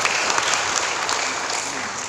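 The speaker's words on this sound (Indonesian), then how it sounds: "Tepuk tangan dulu Bapak Ibu ya." A seminar audience claps continuously in dense, fairly loud applause throughout, with no talking over it.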